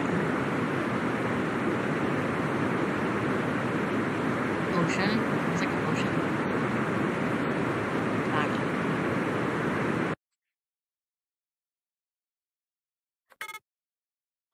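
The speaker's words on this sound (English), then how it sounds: "I'm just going to play some white noise for the next 10 seconds" Steady, loud broadband white-noise hiss plays for about ten seconds, then cuts abruptly to silence broken only by one brief faint blip near the end.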